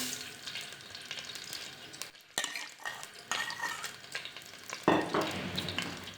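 Cooking oil heats in a handi set in a kadhai on the stove for biryani, giving a steady close sizzle broken by utensil clatter and pot knocks, with no talking.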